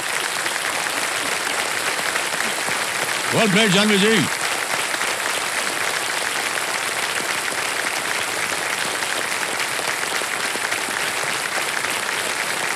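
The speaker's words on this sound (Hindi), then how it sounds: "ताली बज जाए इनके लिए।" A studio audience on a television quiz show applauds a young contestant with long, steady, dense clapping, and someone briefly speaks over it near the start.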